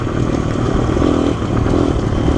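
A motorcycle rides along on a fall day in the Ozarks, its mid-pitched engine droning steadily up close with slight revving swells, loud and continuous with no voices.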